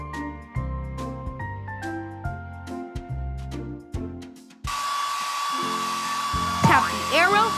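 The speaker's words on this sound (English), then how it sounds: "Tap the hairdryer to blow dry the pup's hair." Jingly PAW Patrol game music plays, then a steady synthetic hair dryer whoosh drying a cartoon pup takes over with a sustained tone and a brief sweeping chirp near the end.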